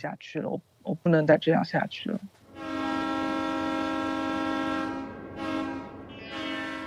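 A moving train sounds a long, loud, steady horn blast that holds for several seconds and then dips and returns, following a stretch of talking at the start.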